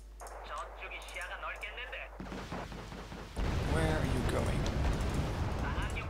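Tank gunfire from the Wargame Red Dragon strategy game, aimed at a command tank: dense gunshot bursts that swell into a louder, sustained barrage of thuds and cracks in the second half.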